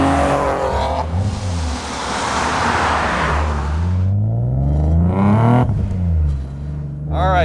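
A supercharged Nissan 370Z NISMO with a VQ37 engine accelerates hard, its loud, close engine note climbing steadily with supercharger whine and a sharp blow-off at a shift, then revving again.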